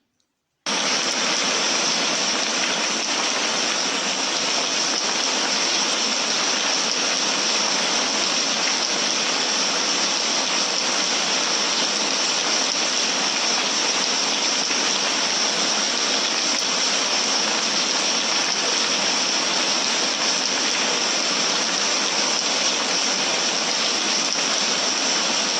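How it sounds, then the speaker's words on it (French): Steady, dense rain falls without a break, a full broadband hiss that holds at an even loudness from start to finish, close and enveloping, with no voices or other sounds on top. "C'est le son de la pluie."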